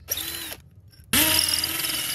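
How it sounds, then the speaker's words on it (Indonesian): A power drill in wall mode bores into brick: a short whining burst, a brief pause, then a louder sustained run of grinding, rattling drilling up close. "Kalau nggak gitu susah ngebor bata."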